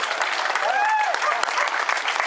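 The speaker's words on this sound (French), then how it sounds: "On va encore l'applaudir très très fort" Loud, steady applause from a crowd at a women's cycling race presentation, the Tour de Bretagne Féminin stage at Radenac, continuous clapping filling the whole stretch with a few whistle-like tones rising briefly above it.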